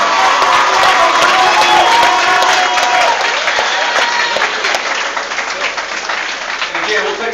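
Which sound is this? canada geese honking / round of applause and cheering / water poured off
round of applause and cheering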